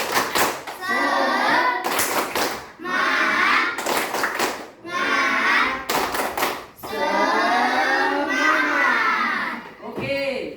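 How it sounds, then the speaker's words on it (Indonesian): Third-grade children in an Indonesian classroom perform the 'tepuk semangat' clapping routine, with sharp bursts of clapping alternating with young voices chanting together in unison, loud and close. "1, 2, 3, tepuk semangat."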